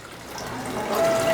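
Apple cider vinegar is poured, a short soft liquid trickle that grows slightly louder as it fills.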